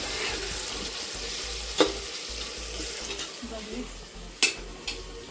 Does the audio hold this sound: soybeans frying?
yes